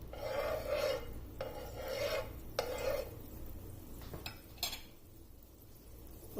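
Butter is rubbed across a pan on the flame for a cheese sandwich, producing rhythmic close scraping strokes with a few sharp knocks, then fading quieter.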